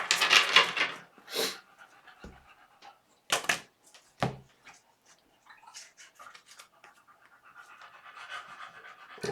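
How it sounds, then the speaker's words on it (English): Two excited dogs panting indoors in quick, breathy bursts, close and fairly quiet, with pauses between spells and a few louder thumps or shuffles. "the dogs were just having like hyper moments, so they're panting"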